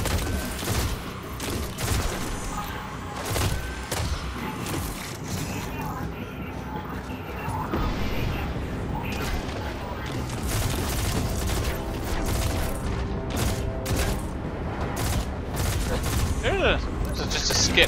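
Enemy gunfire crackles in dense, continuous bursts during a mission of the video game Destiny: Rise of Iron, a loud, busy battle mix with booms layered throughout and voices talking over it.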